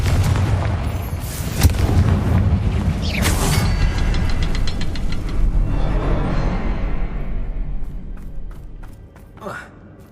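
A Confringo fire spell cast in the Hogwarts Legacy video game sets off loud booming blasts with rattling mechanical clatter. A voice is heard over the blasts, and the sound fades toward a quieter end.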